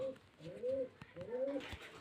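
A pigeon coos softly nearby, two rolling, throaty phrases in a row against a quiet background.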